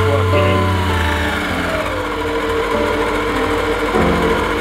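Electric mixer churning an eggless sponge cake premix with water, a steady low motor hum with a shifting whir as the beaters work the batter, fairly loud and continuous throughout.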